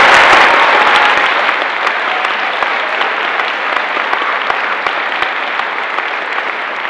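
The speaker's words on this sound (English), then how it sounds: "let's give them one more big round of applause" A concert audience applauds steadily for the singers, a dense, loud wash of many hands clapping that holds for several seconds and eases slightly toward the end.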